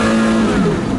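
Porsche Carrera GT engine pulling hard while driving, a loud, close, continuous rasping wail with a steady high tone that shifts pitch as the revs change, with no talking.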